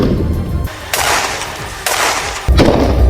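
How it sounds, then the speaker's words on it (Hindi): Gunfire from a firefight between soldiers and Hamas fighters in Gaza, heard as loud, dense bursts of shots that come in sections with short gaps between them. "इस दौरान गोलानी ब्रिगेड की हमास लड़ाकों से मुठभेड़ भी हुई और दोनों तरफ से कई राउंड फायरिंग हुई।"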